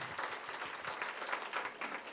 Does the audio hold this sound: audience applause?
yes